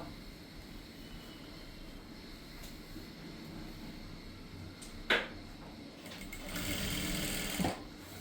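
A sewing machine stitches a collar on a top with a steady, close mechanical whir throughout, picking up in the last seconds, with a couple of sharp clicks from handling.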